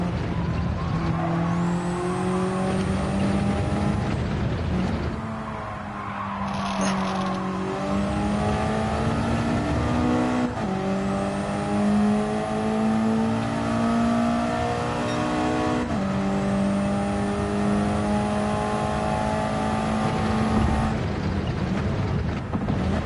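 Race car engine in Gran Turismo 7 revving high through a lap, climbing through gears with repeated upshifts and steady loud drone, a brief lift around mid-lap before pulling hard again.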